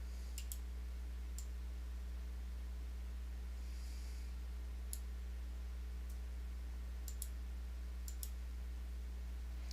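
Computer mouse clicks during a business research database search, several faint, sharp single and double clicks spaced irregularly over a steady low hum, with no talking.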